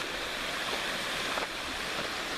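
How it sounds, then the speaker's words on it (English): River rushing beside a hiking trail on Malans Peak near Ogden, Utah: a continuous, steady hiss of flowing water, fairly close and even in level, with no voices. "this is where the river splits off from the trail"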